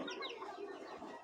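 A black checker male racing pigeon gives faint, soft warbling coos close by, quiet and continuous over a low background hiss.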